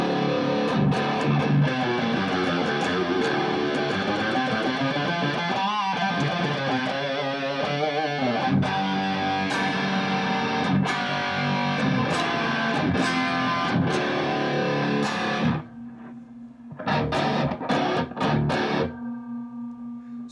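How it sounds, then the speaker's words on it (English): A Paul Reed Smith-style electric guitar, pushed harder by an overdrive pedal boost through a restored flood-damaged cabinet, churns out thick distorted chords and riffs for about fifteen seconds, then breaks into choppy, stabbed chords near the end. "when I boost in my overdrive, sounds a little something like this"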